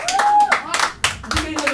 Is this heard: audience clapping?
yes